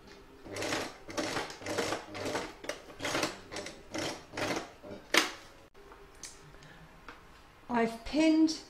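A sewing machine stitching fabric lining end to end on a single-fabric patchwork stocking, running in quick rhythmic bursts with short pauses, close up, ending with some handling clatter.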